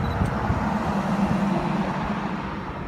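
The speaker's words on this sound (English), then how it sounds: "that car just drove by" A single car passes along a road at night, its broad engine and tyre rumble holding steady and fairly close for a few seconds before slowly easing off, with no voices.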